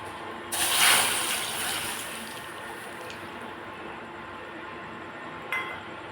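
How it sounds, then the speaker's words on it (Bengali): Milk pours into a pan of hot ghee, a loud hissing sizzle bursting up close at once and then settling into a steady softer bubbling, with a small clink near the end. "চলো দুধটা দিয়ে দিই।"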